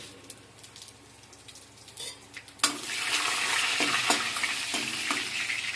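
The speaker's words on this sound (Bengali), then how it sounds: "তেলটা গরম হয়ে গেছে, ফোড়নটা পুড়ে গেছে" Three chillies, two bay leaves and panch phoron hit hot oil in a kadai. After a quiet start, a sudden loud burst of sizzling and spitting erupts and continues steadily to the end.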